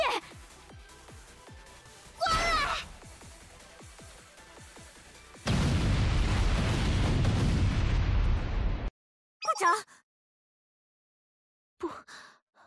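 Artillery fire and a big explosion in the Blue Archive video game: a short loud burst followed by a long roaring blast of several seconds, then brief crackling bits after silence, with voices around it.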